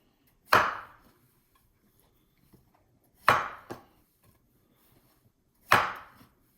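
Ginger being chopped with a knife on a cutting board for a pork stir fry, three loud, separate chopping strikes spaced a few seconds apart, one with a quick second tap, in a quiet kitchen.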